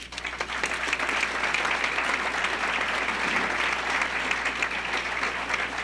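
An auditorium audience at a lecture on AIDS policy applauds to welcome a speaker, a steady sustained clapping that fills the whole stretch without talk.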